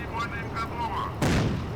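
A tank gun fires in the Steel Fury tank simulator, one sharp, heavy boom that rolls on into a rumbling tail, following a stretch of low engine noise and faint talk.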